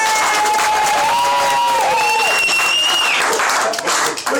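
Enthusiastic audience applause at a live magic show during a needle-through-balloon illusion: close, full clapping from a crowd with shrill whistles and cheers rising above it for several seconds.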